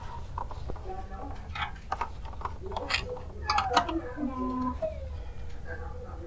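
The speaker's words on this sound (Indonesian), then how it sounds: "Kita colokkan dulu ini portnya." HDMI cable being plugged into the port of an ASUS Phoenix GeForce GT 1030 OC graphics card, heard as a few small plastic-and-metal clicks and scrapes up close over a steady low hum, with someone talking at points.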